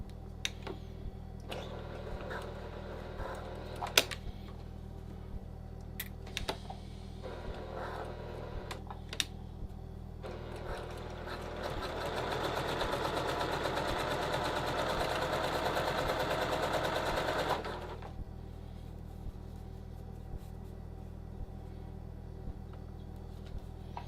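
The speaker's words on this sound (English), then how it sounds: "we're sewing this 1/4 inch away from the edge" A sewing machine stitches a trouser welt a quarter inch from the edge, running in a steady burst for several seconds between scattered clicks and handling noises in a quiet room.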